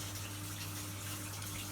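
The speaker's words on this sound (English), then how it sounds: "I'm currently doing water changes in here" Water runs steadily during a water change in a tropical fish tank room, a constant even gush with a low steady hum underneath, moderately quiet and uninterrupted, no voices.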